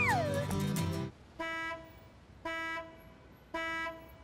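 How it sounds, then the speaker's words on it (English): Cartoon car horn honking in a busy city street, three evenly spaced steady toots following a burst of music and sliding tones, loud and clear with no talk. "How about we take a break from the honking"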